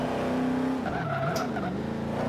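Tires squeal and skid as a Ford Mustang brakes hard in the Forza 5 racing game, a loud sustained screech over the steady drone of the engine, with the engine note rising and falling across the short stretch.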